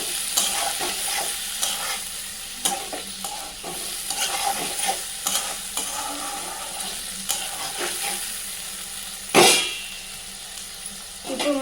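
Raw prawns frying in a tempering of spices in a pan while making gongura prawn curry, a continuous wet sizzle with stirring clatter and one sharp scrape near the end.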